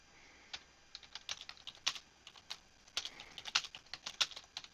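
Quick, irregular keystrokes on a computer keyboard, close and fairly quiet, with bursts of clicks and short pauses and no talking.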